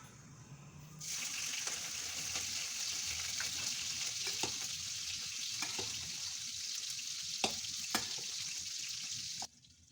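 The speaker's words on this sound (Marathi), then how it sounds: "कढईमध्ये तूप ॲड केलं आणि जी मिरची चिरली होती ती टाकून परतून घेतली" Chopped green chillies are sautéed in ghee in a kadai, giving a steady, fairly quiet frying hiss with a few sharp clicks and scrapes of stirring, and no talk.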